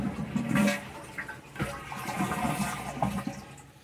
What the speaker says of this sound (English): Toilet does flush.